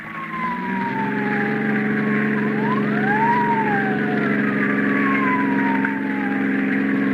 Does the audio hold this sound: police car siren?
yes